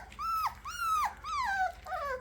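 Young puppies give a series of four drawn-out, rising and falling whimpers, close and fairly loud, with faint growly undertones between them.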